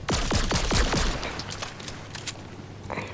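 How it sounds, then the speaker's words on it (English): Gunfire from the lock-on pistol in Fortnite, a fast burst of five or six sharp cracking shots in quick rhythm, then scattered fainter pops and clicks from the game. "Oh, it's the lock-on pistol."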